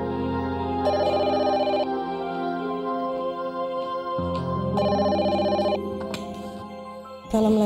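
A telephone rings repeatedly in a home, electronic ringtone bursts in a regular on-off pattern, clear and fairly loud, with a quiet pause between rings.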